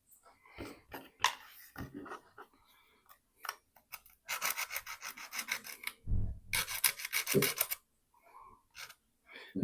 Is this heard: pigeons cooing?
no